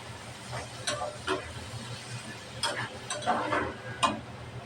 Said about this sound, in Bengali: মশলাটা ভালোভাবে কষিয়ে নেব